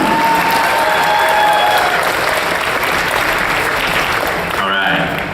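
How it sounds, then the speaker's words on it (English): Audience applause fills a fan convention charity auction hall, a loud, steady wash of clapping that runs throughout with some voices mixed in, easing slightly near the end. "huge round of applause"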